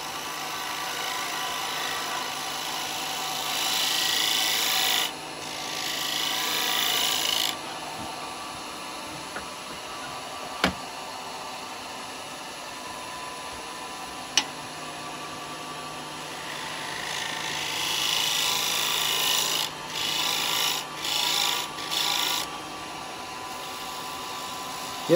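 A small wooden cowboy hat spins on a lathe while a carbide chisel cuts it, giving a steady whir with stretches of harsher scraping and a few sharp ticks, close and without talking.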